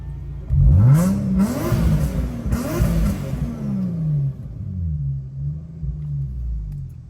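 Supercharged Ford Raptor engine revving under boost after a supercharger belt replacement, several sharp rising revs with a whine climbing and falling, then easing into a lower rumbling idle, close and loud, no talk.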